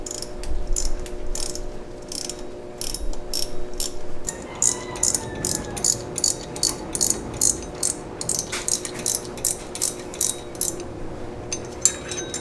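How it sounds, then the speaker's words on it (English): A hand ratchet clicks in rapid repeated bursts while tightening the bolts on lightweight aftermarket pulleys, each run of close, crisp pawl clicks separated by short pauses, with no talking. "I'm just going to go ahead and tighten these until they're all seated, and then I'll go ahead and torque them down."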